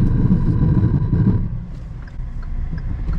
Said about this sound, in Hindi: ये साउंड किस चीज का था? ये एबीएस का होता है